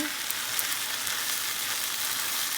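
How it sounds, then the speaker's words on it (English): Ramen noodles, rice and shrimp are stirred together in a pot, giving a steady, soft sizzle and frying hiss with faint stirring scrapes and no talking. "Stir the rice and the noodles and the shrimp."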